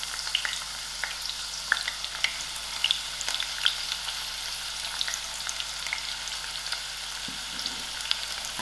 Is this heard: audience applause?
no